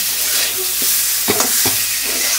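Potato pieces frying in hot oil before being cooked into a rohu fish kalia: a loud, constant sizzle fills the clip, with a few sharp stirring knocks near the middle.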